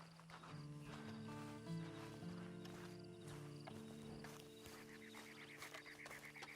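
A horse in the Red Dead Online video game plods along with soft clip-clopping hooves beneath a low, steady musical drone, faint and close.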